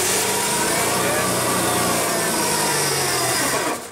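A GM engine with a bypass ignition system cranks and starts, running as a loud, steady, dense mechanical roar that continues up to the end of the clip, then drops away.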